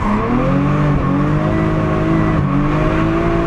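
A Lexus IS200 fitted with a six-cylinder Toyota 1JZ-GTE engine drifts, its loud engine drone rising and dipping in pitch as the revs change, with a tire squeal underneath.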